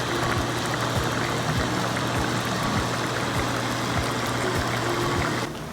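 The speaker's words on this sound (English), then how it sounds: "We have boiling water." A pot of salted-to-be pasta water boiling at a steady rolling bubble, a continuous close wash of churning water with a low hum beneath and no voices.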